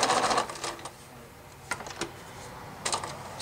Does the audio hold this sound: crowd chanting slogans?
no